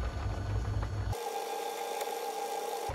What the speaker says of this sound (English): I'm just going to go through across and face off all of the bolts.